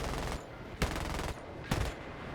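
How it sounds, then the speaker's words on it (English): Cannon fire from an F-5E Tiger II jet in a combat flight game, two short bursts over a steady engine drone, fairly loud and close, with no talking. "Not terribly used to these guns."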